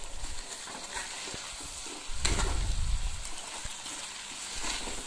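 Elephant yam being stirred with chilli powder and spices in a frying pan, a continuous sizzle with scraping stirs that swells louder midway through, close up and without talk.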